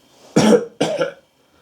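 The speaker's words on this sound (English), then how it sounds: "Then she coughed" Two short, sharp coughs in quick succession, close and fairly loud, followed by silence.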